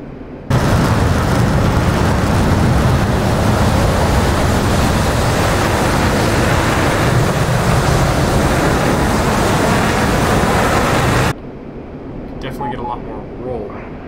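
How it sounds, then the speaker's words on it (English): An F-15C's afterburners in DCS World give a loud, steady roar that holds for about eleven seconds before cutting off abruptly, leaving a quieter engine hum. "Light up the afterburners there."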